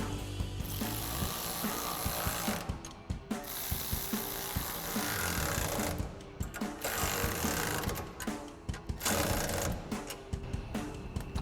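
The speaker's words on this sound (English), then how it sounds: "we'll take our ratchet and 13mm socket," Ratchet with a 13mm socket tightening mounting bolts for iStep running boards on a 2019-2024 RAM 1500, close, fast repeated clicking in several runs separated by brief pauses.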